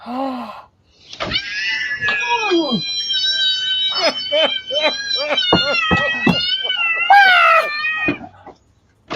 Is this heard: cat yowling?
yes